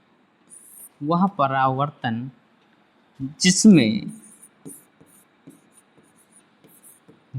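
Writing on a board during a physics lesson, with a series of short scratchy strokes scattered through the quieter second half, faint and close, after someone speaks in two bursts.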